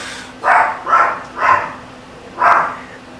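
Four loud, close dog barks in an uneven rhythm, the last after a short pause, with no other sounds around them.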